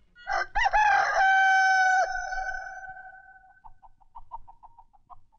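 A voice imitates a rooster's cock-a-doodle-doo, delivered as one loud, drawn-out crow that trails off into a few short, fading clucks.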